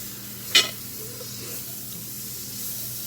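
Butter sizzles in a hot skillet that will next cook a steak, opening with a short sharp crackling burst and settling into a steady, even hiss.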